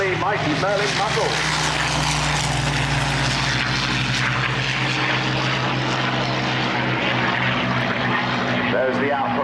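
Rolls-Royce Merlin aircraft engines roar loudly and steadily at the 2004 Chailey Airshow, a continuous, powerful propeller-driven drone that fills the whole stretch, with voices faintly mixed in.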